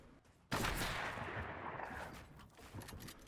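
Fortnite gunfire: one sudden loud blast followed by a long rumbling, echoing decay, then another sharper report near the end, with no talk.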